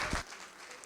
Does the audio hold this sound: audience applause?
yes